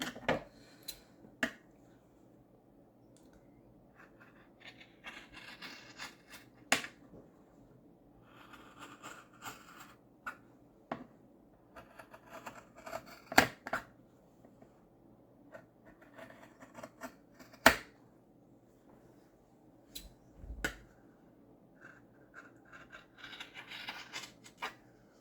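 Scissors cut a third piece for a steampunk cover, producing sparse, quiet snips and faint scraping clicks spread out against a nearly silent background.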